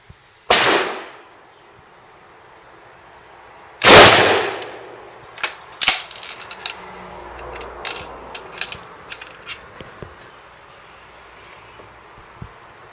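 An SMLE Mk.I Lee-Enfield rifle fires two sharp, loud shots a few seconds apart outdoors, followed by a run of quieter clicks and knocks from handling the action, with crickets chirping steadily in the background.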